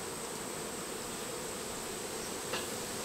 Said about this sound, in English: a few lost bees there. They don't know what to do.